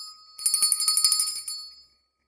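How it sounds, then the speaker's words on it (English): A small physical bell is rung in a workshop, giving a quick run of about a dozen bright metallic dings that fade into a short ringing tail, then silence. "There's that bell. The physical bell."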